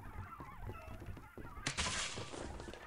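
A rubber duck item honks inside the video game Lethal Company, a short squeaky honk bursting out midway over busy game noise.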